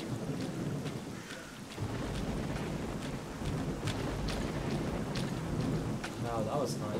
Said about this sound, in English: the thunder effects are really nice